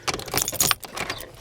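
A bunch of keys jangles and rattles in bursts close by in a garage during a Cummins engine swap, with metallic clinks between short pauses.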